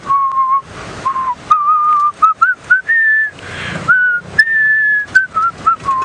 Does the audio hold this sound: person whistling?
yes